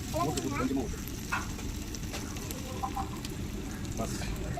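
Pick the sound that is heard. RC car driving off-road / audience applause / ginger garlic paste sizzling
ginger garlic paste sizzling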